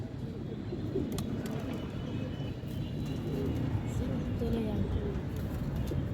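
Pigeons coo softly in a rooftop loft, their low repeated calls mixing with wing flutters, a few sharp clicks and steady background noise, fairly near and moderately loud throughout.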